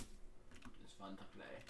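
Computer keyboard keys clatter in quick, uneven bursts while someone plays Minecraft, close and fairly quiet, with a voice talking over part of the typing.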